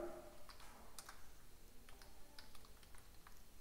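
Quiet, scattered key clicks come from someone typing Python code on a computer keyboard, soft and irregular against a low background hiss, with no talking.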